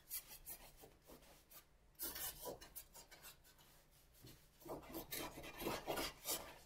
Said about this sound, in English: So I'm kind of scrubbing it on.